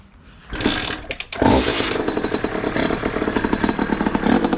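A repaired 50cc moped engine fires up after a couple of cranking attempts, then settles into a steady, buzzing two-stroke idle with rapid rhythmic pulses, loud and close in a workshop.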